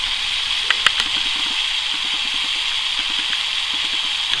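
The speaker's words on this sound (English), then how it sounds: "And then afterwards I'll do some overhead spraying." Steady hiss of overhead water spray falling onto garden plants, continuous and close, with a faint low pump or engine hum and soft ticking underneath.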